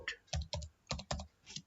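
Quick clatter of keys on a computer keyboard, about six crisp close-up keystrokes in an irregular rhythm, quiet and alone with no talking.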